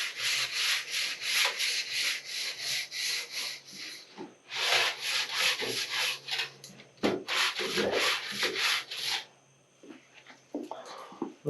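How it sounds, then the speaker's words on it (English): Rhythmic hand sanding of cured Bondo body filler on a Donkey Kong arcade cabinet, a close, harsh rasp in quick repeated strokes with a few brief pauses, before the scraping trails off near the end. "Sometimes this stuff feels a lot like I'm sanding rubber."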